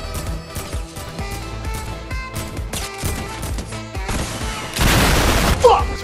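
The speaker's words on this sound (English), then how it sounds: "this man hit me with a freaking rocket" Fortnite battle with rapid gunfire bursts, then a loud rocket explosion blast hitting the player near the end, a broad noisy roar with crashing debris, game voices faintly underneath.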